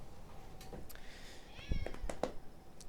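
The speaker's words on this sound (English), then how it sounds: "I should show you my cat" A pet cat named Atticus meows a few short times, fairly close, over a quiet room background with no talking.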